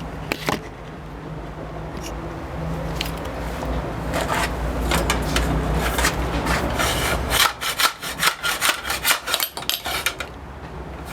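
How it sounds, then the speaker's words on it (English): A bait pump attachment removal tool worked like a slide hammer: steady scraping and rubbing of metal parts, then a quick run of sharp repeated knocks near the end, close and alone. "me using it like a slide hammer"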